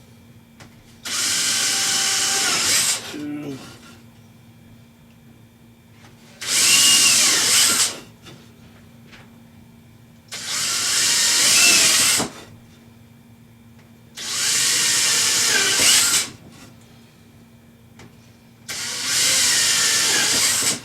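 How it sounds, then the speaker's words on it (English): A power drill bores through a round piece of EMT conduit into scrap wood, five loud whining bursts of about two seconds each separated by short pauses, with a faint word or two between them. "I'm very simply just going to drill it out here into a piece of scrap wood."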